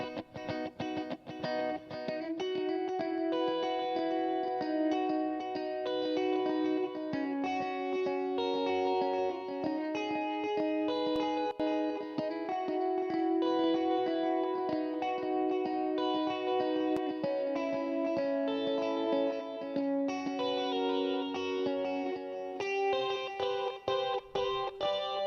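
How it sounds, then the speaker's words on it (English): A G&L Strat electric guitar strums continuously through rhythmic delay effects with chorus-like shimmer, a dense, steady wash of repeating chords and echoes filling the whole stretch without any voices. "This is my G&L Strat, and there's a couple of rhythm sort of delay things going on here."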